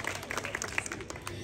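An audience at a Marathi home game show in a housing society claps in a short burst, sharp claps scattered across a low room hum.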